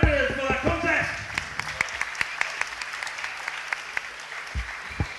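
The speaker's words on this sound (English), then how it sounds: "Ladies and gentlemen, please, a bigger round of applause for our competitors for that contest." Audience applauding competitors after a grappling contest in Glasgow, a dense burst of clapping at first that thins into scattered individual claps, with some voices underneath.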